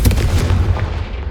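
A Confringo fire spell blast from Hogwarts Legacy: a sharp, loud, cannon-like burst followed by a quick run of booming impacts that decay into a low rumble.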